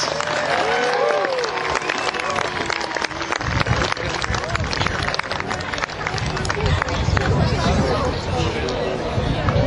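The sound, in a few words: crowd cheering for Greeks, Persians and archers at medieval fair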